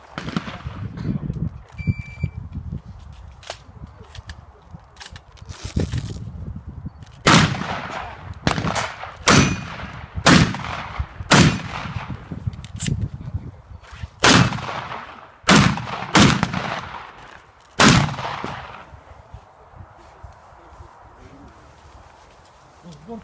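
A series of loud, sharp gunshots at a shooting match rings out at irregular intervals, some in quick pairs, with people talking quietly between the shots.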